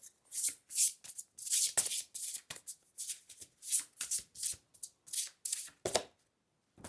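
A deck of playing cards is shuffled again and again in a card-reading session, crisp riffling bursts repeating in a steady rhythm up close, with brief pauses between shuffles and no talking.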